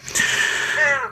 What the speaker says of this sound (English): I'm taking care of a friend's crow. He can be quiet sometimes, but sometimes he can't.